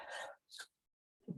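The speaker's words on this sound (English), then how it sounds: "about to sneeze here, excuse me" A single close sneeze with a sharp inhale and burst, followed by a brief pause and a soft murmur.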